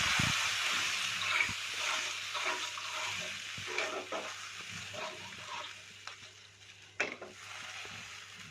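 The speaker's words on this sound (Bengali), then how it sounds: "আলতো হাতে ভালো করে নেড়ে দিয়ে দেবো" Potatoes with spices and rice flakes for muri ghonto are stirred in a pan: soft, close scraping and stirring over a low sizzle, with a few sharper clinks and pauses.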